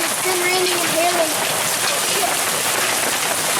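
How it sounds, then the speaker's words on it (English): Heavy rain and hail pound down in an Arizona thunderstorm, a dense, steady hiss throughout with a voice speaking faintly underneath. "Look how much time it's been raining and hailing."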